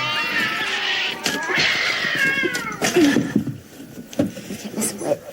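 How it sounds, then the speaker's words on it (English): Several drawn-out, wailing cat meows and yowls from the 1992 film Ghostwatch, loud and close, with rustling movement and a few clattering bumps in the background. "These crazy cat sounds are destroying me."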